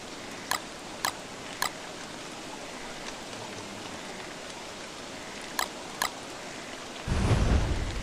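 Steady rain hiss in the Don't Starve video game, a continuous wash of patter with a few sharp clicks and a louder swell of downpour near the end.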